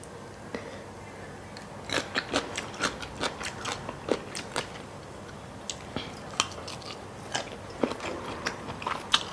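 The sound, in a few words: biting into a thick crispy snack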